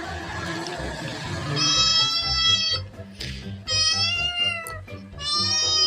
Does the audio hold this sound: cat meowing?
yes